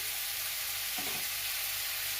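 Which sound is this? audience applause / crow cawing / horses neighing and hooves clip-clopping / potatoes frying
potatoes frying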